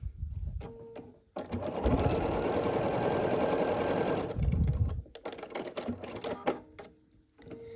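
A sewing machine stitches a fabric ear onto a face piece for an autumn table runner block, a short whir, then one sustained run of about three seconds, close and fairly loud.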